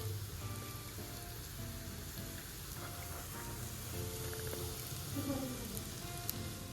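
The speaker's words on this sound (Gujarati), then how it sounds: "અને હવે આપણે જે આ ટિક્કી બનાવી છે તે એડ કરીશું અને બંને બાજુ ગોલ્ડન બ્રાઉન રંગની થાય ત્યાં સુધી આપણે એને થોડી સેલો ફ્રાય કરી લઈશું" Sweet potato tikki shallow-fry in oil in a pan, giving a steady, rain-like sizzle that runs unbroken at moderate volume, with faint tonal background sound beneath it.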